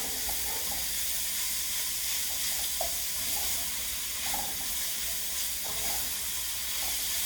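Ground turkey cooks on medium heat in a pan, giving a steady close sizzle and hiss, with faint scraping of a utensil breaking up the meat and no talking.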